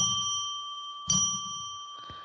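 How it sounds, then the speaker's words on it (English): A bell struck three times, each ring a clear sustained tone, with the second strike brightest and the third softer near the end, alone and quiet. "let's ring a bell 3 times to declare sacred space"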